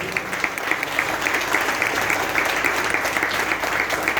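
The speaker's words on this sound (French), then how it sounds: "je vous demande de les applaudir bien fort," Dense, sustained applause from the audience at a political meeting held in a school refectory, many hands clapping at once, loud and close, with no speech over it.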